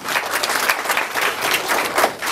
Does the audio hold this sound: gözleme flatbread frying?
no